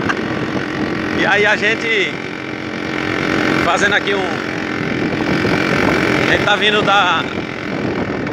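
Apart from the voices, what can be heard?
Yamaha RD135 motorcycle riding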